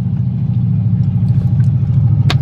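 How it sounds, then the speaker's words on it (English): A loud, steady car engine rumbles close by with a constant low drone that never lets up, and a brief higher clank comes near the end. "Did you consider getting a quieter car?"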